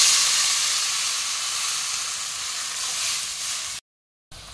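Water poured into a hot pan of frying potatoes with spices, a loud steady hiss of steam and sizzle that fades a little over several seconds, then cuts off briefly before resuming.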